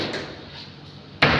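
A painted cabinet door in a beauty parlour swings shut with a sharp, loud knock at the end, after a brief quieter handling sound.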